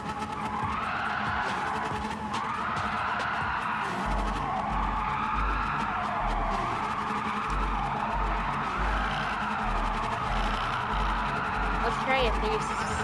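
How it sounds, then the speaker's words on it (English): A Lamborghini Sian replica car slides and drifts loosely with a steady engine drone and scrubbing tire noise throughout, while someone talks over it. "So this could actually be a really good drift vehicle."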